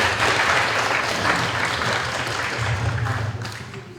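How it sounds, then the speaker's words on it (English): A crowd at an engineering day keynote applauds steadily, dense clapping filling the room for several seconds before tapering slightly toward the end. "Can we have a round of applause?"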